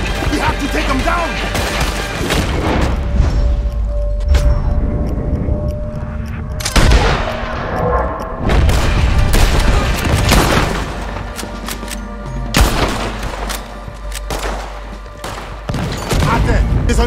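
Repeated gunfire and booming blasts from a shooter in a tower during a Red Dead Redemption 2 firefight, loud and sustained with shots and crashes layered over a dense battle ambience, with voices calling out between bursts.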